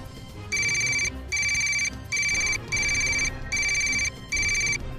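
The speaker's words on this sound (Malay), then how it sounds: "Aku cuba telefon Din lah." An electronic telephone rings in a Malay children's cartoon, five even bursts of bright trilling tone with short pauses between, loud over a low background bed.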